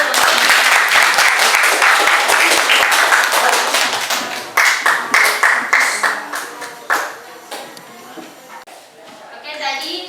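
A classroom group applauds with loud, dense clapping that swells in bursts and then tapers off, with a few faint voices underneath.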